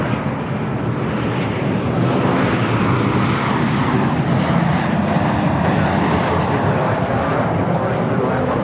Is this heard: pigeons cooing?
no